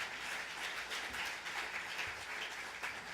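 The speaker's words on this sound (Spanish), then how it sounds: "Alguien denle un aplauso al Señor en la iglesia" A church congregation applauding together during a thanksgiving service, a steady, dense wash of clapping that holds evenly for a few seconds with no voices on top.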